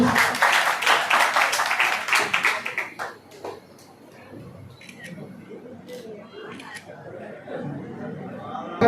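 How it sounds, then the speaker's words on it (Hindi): Loud audience applause at a certificate ceremony bursts in for about three seconds of dense clapping, then fades to murmuring chatter and scattered taps as voices talk in the background. "जोरदार ताली"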